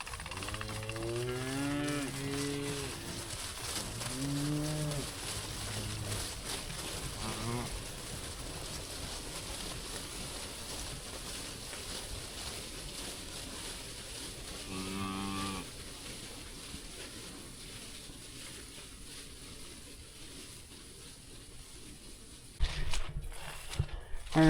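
Cattle moo repeatedly in a pasture on a rainy day, several drawn-out calls spread across the clip over a steady wash of rain and outdoor noise, with a brief loud bump near the end.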